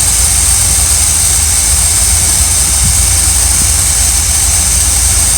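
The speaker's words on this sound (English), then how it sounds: "it ran great when we were idling it like this. Like it is now." A full-time RV's engine idles steadily, a loud, constant low rumble under a broad hiss that holds without change for several seconds, with no voices.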